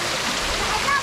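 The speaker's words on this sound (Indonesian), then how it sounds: "Air terjun yang ini." Taenu waterfall near Ambon, a constant rushing wash of falling water with a person talking over it.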